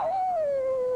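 A dog gives a single long, close howl whose pitch slides slowly downward and then lifts a little at the end, holding steady for about a second with no talk over it.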